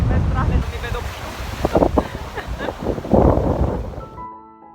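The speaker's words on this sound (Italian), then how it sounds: "C'è anche un bellissimo vento di mezzale" Strong wind blows at the seaside, buffeting the microphone with gusty roar and rumble over surf, while a voice talks intermittently through the noise before it drops away at the end.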